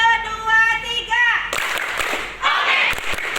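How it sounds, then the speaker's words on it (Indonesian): Children shout a count together, then clap their hands in quick rough bursts, a close group of small claps following the chant. "Tepuk 1, 2, 3."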